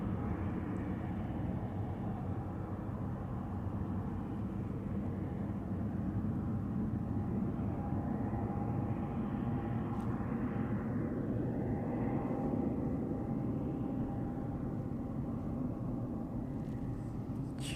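A one-year-old airframe climbs out after takeoff from East Midlands Airport, its engines a faint, distant, steady rumble that shifts slightly in tone as it recedes.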